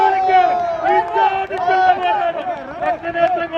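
Many voices shouting and cheering together at a snake boat race, loud and close, a continuous excited crowd roar.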